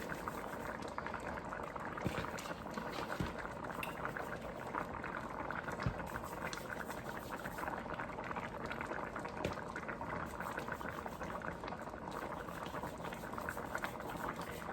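A pot of stew peas boiling, a soft continuous bubbling and burbling with occasional faint pops and ticks, steady and fairly quiet throughout, with no talking.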